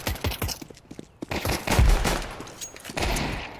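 Gunfire in the video game Counter-Strike 2, quick scattered bursts of shots and sharp cracks from several weapons, moderately loud with brief gaps between volleys.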